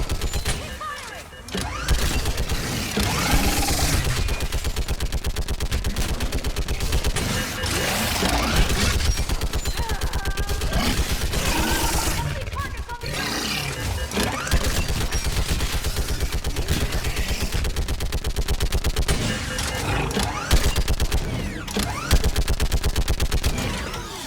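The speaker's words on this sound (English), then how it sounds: "Keep firing!" Sustained gunfire rages through a Mass Effect 3 battle, with dense rapid bursts and booming impacts continuing nearly nonstop, loud and close, while voices shout over the combat.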